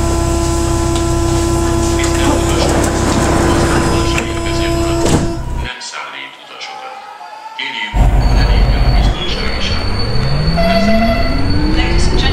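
A Budapest M2 line metro train in the OpenBVE simulator rolls along with loud steady rumble and wheel noise, a brief quieter stretch, then rising motor whine as it accelerates.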